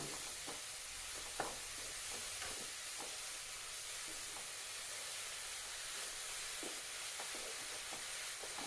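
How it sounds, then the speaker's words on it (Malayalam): Pumpkin leaves fry in a pan of coconut oil and get stirred, a faint continuous sizzle broken by soft, repeated scraping strokes of the spoon. "ഇല ആദ്യം ഒന്ന് നമുക്ക് ഇളക്കി കൊടുക്കാം"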